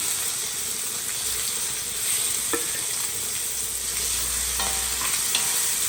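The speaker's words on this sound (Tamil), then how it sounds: "மீன் பார்த்திங்கன்னா ஒரு பக்கம் பொரிஞ்சிச்சு, அடுத்த பக்கம் பரட்டி எடுத்துக்கலாம்" Four pieces of fish fry together in a pan for a curry, giving a continuous hissing sizzle with a few crackling spatters, fairly loud and close, with no voices.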